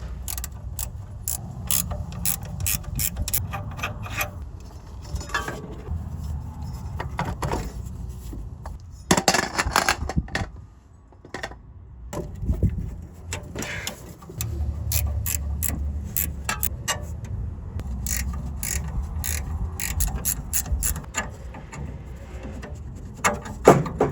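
Ratchet wrench clicking in bursts while a smog pump is taken off a van engine, rapid close metallic ratcheting strokes separated by brief pauses and small clanks of tools and brackets.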